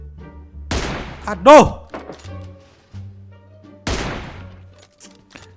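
Sniper rifle fire in the battle-royale game PUBG: two sharp, loud gunshot reports about three seconds apart, with a person's voice speaking around them.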